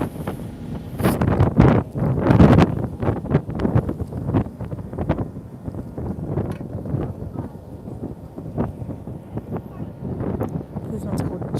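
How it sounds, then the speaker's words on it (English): Strong wind buffets the microphone on Cockatoo Island in gusty, roaring bursts, loudest early and then settling into a steady rumble, with no talk. "It's a bit windy up here."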